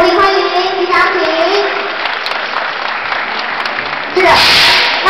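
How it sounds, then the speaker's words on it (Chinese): Applause from the audience at a New Taipei shopping festival lottery press conference greets the economic development bureau director, dense clapping heard up close, with a louder burst near the end. "掌声鼓励欢迎局长"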